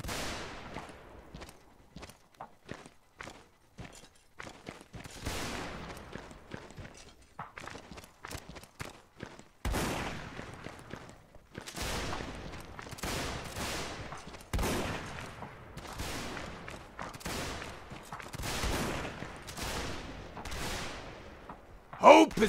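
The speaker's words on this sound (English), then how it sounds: "Fire at will. Firing by volley, ready." In Mount and Blade Warband, muskets fire in a ragged volley of many sharp cracks, some near and loud, others faint and distant, scattered irregularly over a long stretch.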